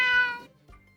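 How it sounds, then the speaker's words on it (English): A cat gives a single loud, close meow lasting about half a second, followed by a faint trailing sound, with no voices. "Cats meow."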